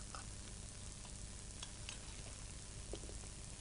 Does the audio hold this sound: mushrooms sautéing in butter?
yes